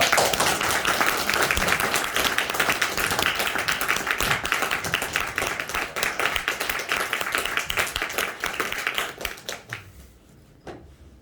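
A crowd applauds steadily, dense clapping filling the room for about ten seconds before tapering off and fading at the end.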